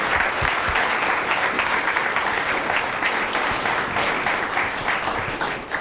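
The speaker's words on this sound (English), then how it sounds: "Can we give them a round of applause, please?" An audience applauds panelists at a behavioral health event, with steady, close clapping filling the room for several seconds.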